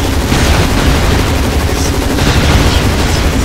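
Rapid, sustained gunfire at snakes in the online shooter Blackfire Online, a dense continuous rattle of shots with heavy low-end thumps, loud and close, running steadily throughout.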